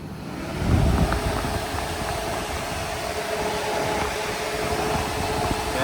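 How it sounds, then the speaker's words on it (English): Electric radiator cooling fans on a J35 sandrail whir into life with a steady, broad rushing hum and a faint tonal whine, running continuously at close range. "Fans are working."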